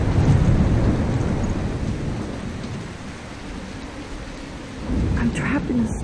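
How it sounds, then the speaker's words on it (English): Thunderstorm in the video game Life Is Strange: heavy rain hisses steadily with deep rumbling thunder at the start and again near the end, loud and enveloping, with no voices. "I'm trapped in a storm?"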